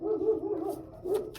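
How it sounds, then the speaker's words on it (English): Dogs barking and yipping outside, several excitable barks in quick bursts with a whimpering edge, somewhat muffled at middle distance with no talk over them. "My neighbor's dogs have been in an uproar all day, and my dogs don't like it."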